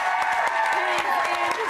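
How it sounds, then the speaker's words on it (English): Studio audience applause and cheering for Ed Sheeran on a live TV show, a dense burst of clapping with whoops, close and continuous, with a presenter talking over it. "Can we get a round of applause for Ed Sheeran"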